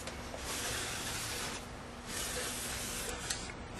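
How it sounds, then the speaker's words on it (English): Brake cleaner hissing from an aerosol can onto an engine part during lower intake manifold gasket work, two long close bursts separated by a short pause. "Use this to brake clean. Just spray it on here."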